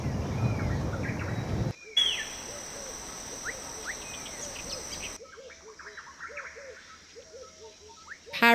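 Parrots and other birds in Mauritius chirp and call throughout, with scattered short tweets and whistles over a steady hiss of insects; the background shifts abruptly a couple of times.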